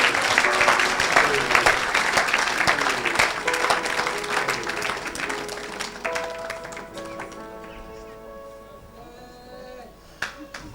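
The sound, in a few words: audience applause and cheering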